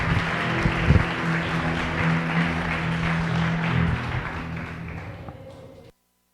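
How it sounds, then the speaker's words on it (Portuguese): Church congregation applauding the Lord, a dense sustained wash of clapping with a steady sustained musical tone beneath, fading slightly toward the end before cutting off. "Oh Espírito Santo, aplauda o Senhor, querido."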